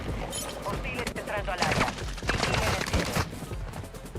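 Rapid gunfire in Warzone 2.0, bursts of shots crackling through dense game noise, with people talking over the action.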